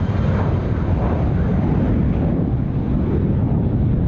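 A Jetstar airliner on the Darwin service takes off at night from Sydney Airport, its engines a loud, steady broadband roar with wind rumble that holds for the whole stretch and has no voices over it.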